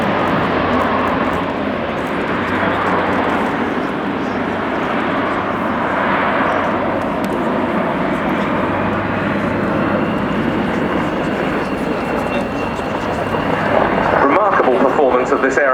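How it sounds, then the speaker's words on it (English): An Airbus Defence and Space A400M Atlas, a four-engine turboprop airlifter, drones loudly overhead at the RIAT 2018 air show, its propeller roar steady and rising slightly near the end, with a commentator's voice running underneath. "Here we have the Airbus Defence and Space A400m."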